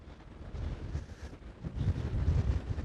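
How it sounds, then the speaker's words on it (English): Strong wind buffets the microphone in loud, low rumbling gusts that surge and ease, growing heavier toward the end. "So windy."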